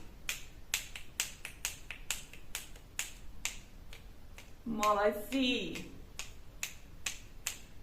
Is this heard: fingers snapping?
yes